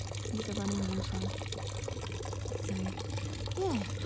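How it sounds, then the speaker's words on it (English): Water runs with a steady, soft trickle in a small garden pond, continuing underneath a person talking nearby. "And then this little pond area with the running water."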